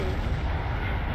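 A loud, sustained rumbling blast with heavy low-end roar, like a game explosion filling the whole moment, from the Naruto Shippuden: Ultimate Ninja Storm 4 video game.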